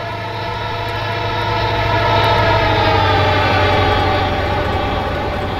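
Passenger train rolling past a level crossing in heavy rain, a loud steady rumble with rhythmic wheel clatter that swells slightly midway, no talk.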